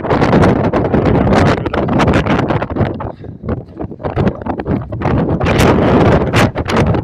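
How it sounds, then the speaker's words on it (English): Strong gusty wind on the Karakoram Highway in Pakistan buffets the microphone in heavy, loud rumbling bursts that briefly ease in the middle before roaring back. "Very windy. Blowing my cap off."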